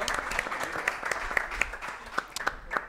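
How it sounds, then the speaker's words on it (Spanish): Fairly faint applause from a small audience at a live collectors' show, a few distinct hand claps standing out over a soft, uneven spatter for a few seconds. "Un aplauso para participar del Facundo."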